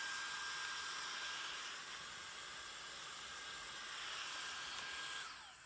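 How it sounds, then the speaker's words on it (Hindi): A Dyson Airstrait runs in hair-dryer mode with a loud, steady high-pitched whoosh of blown air that holds constant for several seconds, then begins to drop at the very end. "Now I am going to show you how it works as a hair dryer."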